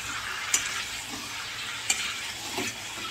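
Potatoes sautéing with chicken curry in a pan, a steady close sizzle with two sharp spatula scrapes and stirring clinks against the pot, no voices.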